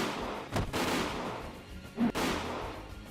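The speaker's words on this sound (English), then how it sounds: "how has Best Girl Teacher not noticed the real gunshots going off" Two sharp gunshots from the Higurashi When They Cry visual novel, about a second and a half apart, each a loud crack with a short tail over a continuous game background.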